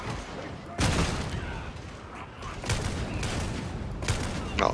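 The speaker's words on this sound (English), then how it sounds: "hip firing, you're gonna go through ammo real fast because it has a 2-shot minimum" Gunfire from a slow, two-shot-minimum gun in Warhammer 40k: Darktide crackles in a few sharp bursts over steady game noise, fairly quiet overall.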